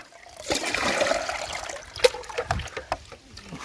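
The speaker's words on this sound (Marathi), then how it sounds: "तर फटाफट पहिलं पाणी घालून घेऊ सगळ्यांना" Water splashes and gushes onto coconut palms in a Konkan orchard, a rushing pour followed by a few scattered splashes and drips, fairly quiet with no talking.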